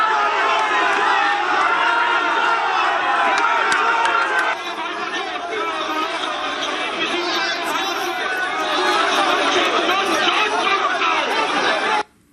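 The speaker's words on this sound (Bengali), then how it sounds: "তৃণমূল বিজেপির মধ্যে তুমুল স্লোগান।" A dense, loud crowd of Trinamool and BJP supporters chants and shouts slogans at a political rally in Bhowanipore, a steady roar of many voices that cuts off abruptly at the end.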